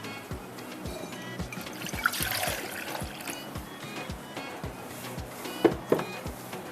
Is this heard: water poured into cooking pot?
yes